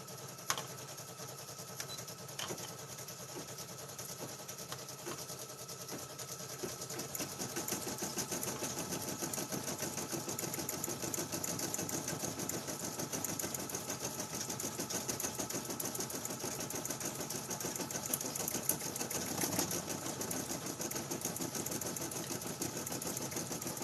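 A cheap Walmart combo sewing machine runs with a fast, even mechanical whir and rapid needle rattle, starting lighter and then humming steadily and continuously at close range.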